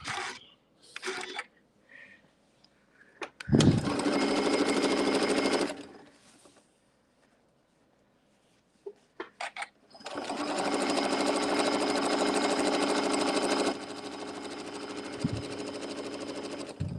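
A domestic sewing machine stitches fabric pieces for a quilted winter fan blade block, running in a short burst and then a longer steady whirring run, close and alone, with brief handling clicks between and a little quiet speech.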